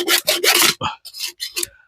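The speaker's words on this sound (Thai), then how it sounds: "เลื่อยออกเพื่อความงามนะพี่น้อง" A hand saw cuts off excess material while a broken hammer is being repaired. It makes several close, loud, raspy back-and-forth strokes in an uneven rhythm, with short pauses between strokes and no talking.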